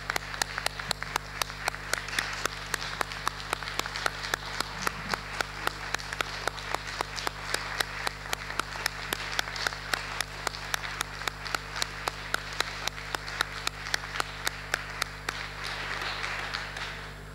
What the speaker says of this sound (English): So that I would like to ask you to applaud and thank Mr. Kummer.